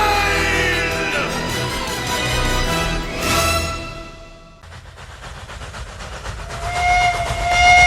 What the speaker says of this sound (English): the train chugged through the Russian countryside